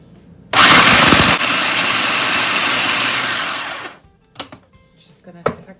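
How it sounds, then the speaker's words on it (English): A loud countertop blender whirs for about three seconds while blending ingredients for vegan, gluten-free turtle energy bites into a sandy mix, then winds down, followed by a few soft clunks of handling. "we're going to blend those two together until they make a kind of a sandy formation"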